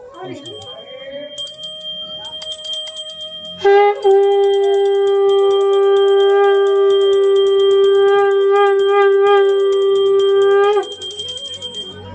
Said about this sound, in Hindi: अध्याय में आप घंटी बजाएंगे।